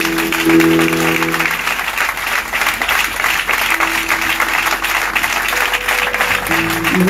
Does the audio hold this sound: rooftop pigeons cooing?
no